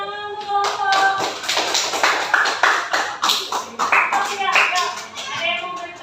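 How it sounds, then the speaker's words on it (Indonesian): Classroom applause from a group of pupils, close, rhythmic clapping in bursts with children's voices over it. "berikan tepuk tangan untuk kelompok"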